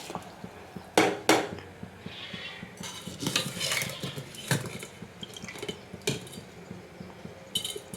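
Rice poured little by little into a pot of boiling water, with sharp clinks of a utensil against the pot, light stirring and dripping, close and moderately loud, no talking.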